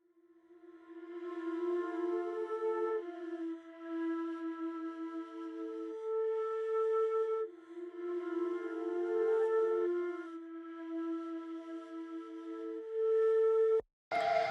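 A sustained, swelling synth-like lead line with long held tones, preceded by a reversed reverb tail giving a washy sound, continuous throughout, ending in an abrupt cut and brief burst.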